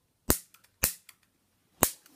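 A barbecue igniter trigger on a homemade PVC hairspray launcher clicks to make a spark, three sharp loud snaps with faint small ticks after each, close by and alone.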